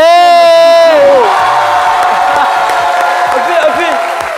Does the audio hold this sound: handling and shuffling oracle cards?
no